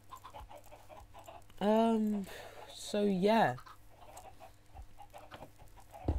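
Minecraft chickens on a chicken farm give two short clucking calls, the first around two seconds in and a second, higher squawk a moment later, with faint game ambience and a brief spoken phrase nearby.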